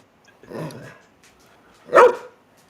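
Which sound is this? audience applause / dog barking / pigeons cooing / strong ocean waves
dog barking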